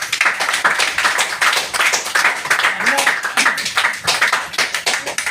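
Audience clapping at an Ayurvedic product training event, a dense run of rapid hand claps from a group lasting several seconds, loud and close, with voices mixed in underneath.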